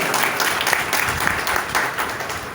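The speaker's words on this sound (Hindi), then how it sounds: "आपकी भरपूर तालियों में" An audience applauds steadily, a dense patter of many hands clapping at once.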